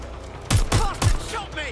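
A quick burst of three close, loud gunshots in the Watch Dogs Legion video game, sharp cracks in rapid succession over a steady background hum.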